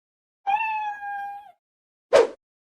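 A cat gives one clear, drawn-out meow close by, followed by silence and then a short, breathy sound; no one is talking.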